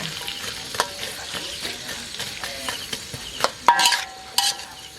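Onion sizzling in hot oil in a pan while being stirred, with a continuous crackling fry punctuated by repeated spatula scrapes and metallic knocks against the pan, close and fairly loud, with no voices.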